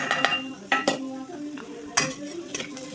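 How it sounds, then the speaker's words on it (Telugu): Okra stirred in a pan with rock salt and turmeric, with clinking metal spoon strikes and scraping over a light sizzle, several sharp knocks spaced through it. "వేసి మంచిగా మిక్స్ చేసుకో."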